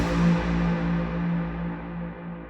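Synth bass note drenched in heavy reverb with a very long decay, a deep sustained tone with a lingering wash that slowly fades over a few seconds, with no voices.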